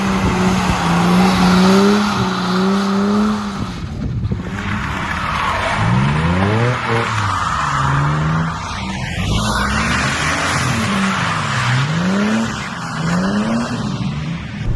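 A Ford AU Falcon 4.0L with a five-speed manual drifting, its engine revving loud and close while the tires squeal in repeated rising and falling sweeps.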